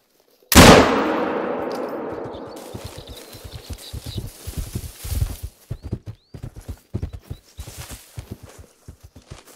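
A single loud, close rifle shot in the hunting game theHunter: Call of the Wild, on a wisent hunt in southern Hirschfelden, rings out and slowly fades, then gives way to uneven, rhythmic hoof-like thuds.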